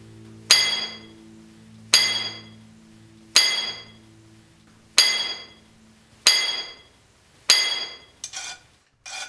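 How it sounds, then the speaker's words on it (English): Six evenly spaced, ringing metallic hammer blows on a steel hand drill boring into copper ore in a mine, each fading out before the next, then a few quicker, softer knocks. "He is drilling a series of 3-foot deep holes into the ore."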